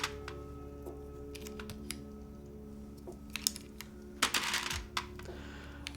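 Keys tapped on a custom mechanical keyboard, scattered light clicks and clacks over a faint steady hum, with a short cluster of louder rattling clatter near the end and no talking.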